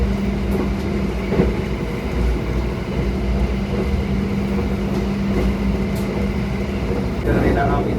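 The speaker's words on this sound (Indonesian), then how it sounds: "baru saja kereta api Taksaka meninggalkan stasiun Ketanggungan" Aboard the Taksaka luxury sleeper train as it runs after leaving a station, a steady low rumble and hum of the carriage continues, with faint rattles and a brief tonal chime near the end.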